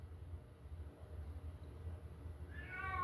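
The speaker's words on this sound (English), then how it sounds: "Sorry for the cat meowing in the background if you guys hear it." Low background hum, then a cat lets out a single drawn-out meow near the end, fairly faint and a little distant.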